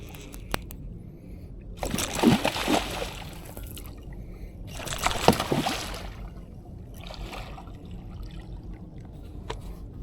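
Two loud bursts of a caught gar thrashing and splashing against a boat hull a few seconds apart, with a fainter flurry afterward and quiet between.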